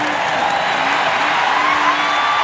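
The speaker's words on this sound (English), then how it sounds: "Crowd is up." Steady roar of a basketball arena crowd at an NCAA tournament first-round game between UC Irvine and Gonzaga, loud, dense and continuous, with cheering and whoops blended into one sustained wall of noise.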